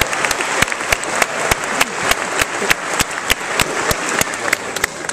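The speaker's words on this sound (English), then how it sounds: "I think I do deserve some applause for" An audience gives a burst of applause at an interfaith gathering, crisp individual claps scattered over a dense clapping wash, fairly close and steady for several seconds.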